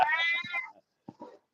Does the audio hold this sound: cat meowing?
yes